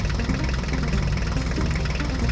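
A mini tractor engine runs steadily at idle with a dense, constant rumble and faint knocking, close and loud throughout with no break.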